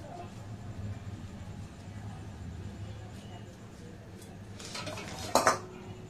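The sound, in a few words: dishes and pots clattering while cooking biryani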